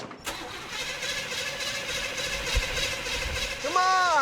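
A car engine rigged to run on hydrogen cranks and turns over without catching, a steady churning drone under occasional talk, ending in a rising whine near the end.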